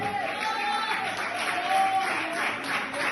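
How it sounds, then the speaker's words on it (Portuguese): Church congregation applauding during a sermon, a continuous wash of clapping with voices calling out over it throughout. "Aplauda ele."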